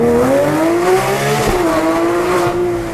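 A 2016 Porsche GT3 RS's air intake hums loudly and steadily, its tone rising and falling slightly with a brief surge midway, with no voices over it.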